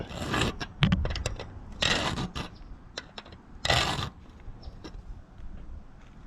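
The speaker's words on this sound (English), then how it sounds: "you only push a file" A hand file is pushed across a damaged metal edge in short rasping strokes, several bursts of gritty scraping separated by brief pauses, close and fairly loud.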